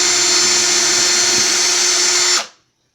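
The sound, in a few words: drill boring a hole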